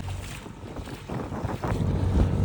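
A fishing boat returns from work carrying catch to auction, its low rumble passing close by along a rocky shore, mixed with gusting wind buffeting the microphone and faint waves.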